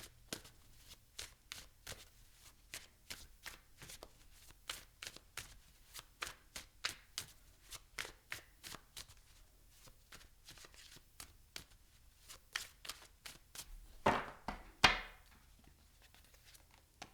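Tarot cards shuffled and drawn at close range: a steady run of crisp, rhythmic card snaps and riffles, ending in a louder flurry near the end, with no talk.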